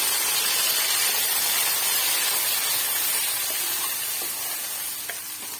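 Ginger, garlic and tomato paste sizzling in a hot pan as mutter masala is being made, a loud, steady, close frying hiss that runs the whole time and eases slightly toward the end, with no voices.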